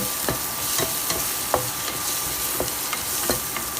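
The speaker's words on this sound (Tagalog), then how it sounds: "Gisahin mo lang yung luya, sibuyas, at bawang." Ginger, onion and garlic sauté in a pan with a steady close sizzle, punctuated every half second or so by sharp spatula clicks and scrapes against the pan, with no talking.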